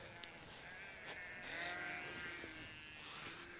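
A ewe with her two lambs bleats during lambing, giving a few soft, wavering calls at moderate distance over a steady outdoor background hiss.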